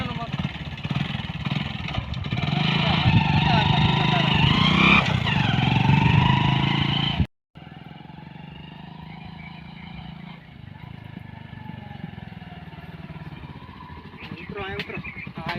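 A motorcycle engine rumbles and revs steadily through a village ride, loud at first and then quieter, while people talk over it throughout.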